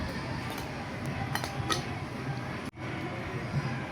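A spoon clinks and scrapes against a bowl while stirring baking powder and baking soda into a flour mixture for vegetable patties, a close, steady, light rattle as someone talks.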